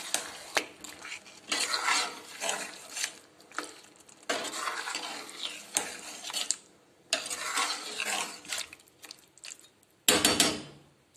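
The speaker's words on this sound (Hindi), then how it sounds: "लहसुन पेस्ट, अदरक का पेस्ट, इसको मिक्स कर लेंगे" A spoon scrapes and clatters in a metal pot as garlic and ginger paste is mixed into chicken, in bursts of stirring broken by short pauses, with a louder clank near the end.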